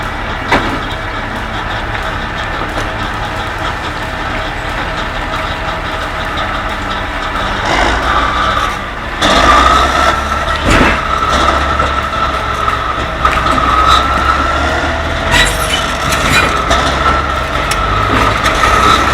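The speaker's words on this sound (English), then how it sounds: "To love the roar of the engine, it's music to my ears." The engine of a heavy oversized transport truck idles with a loud, continuous low rumble and swells in a rev partway through, heard close up against steady background noise.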